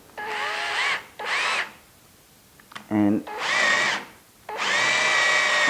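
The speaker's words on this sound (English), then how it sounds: "I'm going to drill a hole around about there" A power drill whirs in four bursts, revving up and cutting off, with a brief rattling clatter between them, while drilling a hole to cut a thread for a spindle.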